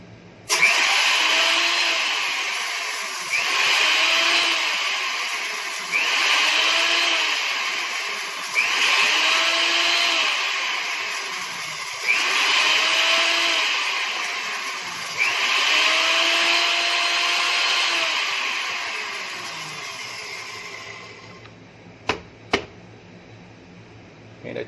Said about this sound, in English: let me grind this so you can see exactly what I'm talking about. It's a little noisy